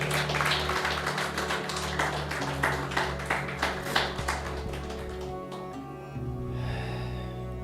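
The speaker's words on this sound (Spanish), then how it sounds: "Vamos a darle un fuerte aplauso a nuestro Padre Celestial." A church congregation claps along in a rhythmic beat over steady music, with loud, evenly spaced claps filling most of the stretch before fading near the end.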